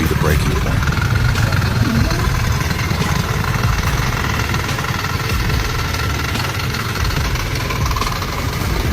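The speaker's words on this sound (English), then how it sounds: "a tractor straining under the pressure" A tractor engine laboring under a full load of logs, a loud, steady, continuous drone with a rough mid-range rumble that holds throughout.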